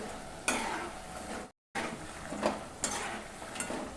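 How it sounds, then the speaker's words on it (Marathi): Oil crackling and sizzling as namak pare, wheat-flour dough pieces, fry on a medium gas flame, with scraping stirs and a brief cut to silence partway through. "मस्त गोल्डन गुलाबी होईपर्यंत छान असे तळून घ्यायचे आहेत"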